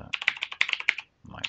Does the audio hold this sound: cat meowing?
no